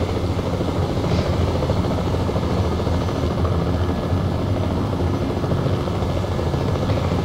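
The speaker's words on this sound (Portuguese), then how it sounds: "Esse helicóptero que eu tô nele, ele não consegue atirar." A helicopter in the video game Battlefield Play4Free on the Oman map drones steadily throughout, a loud continuous rotor and engine roar with no talk over it.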